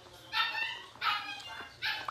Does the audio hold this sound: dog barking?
yes